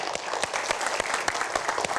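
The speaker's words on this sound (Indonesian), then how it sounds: "Berikan tepuk tangan untuk Mas Henry Herianta" Brisk applause from a small audience welcoming a guest onto the stage at a community talk event, quick overlapping claps, close and lively, no speech over it.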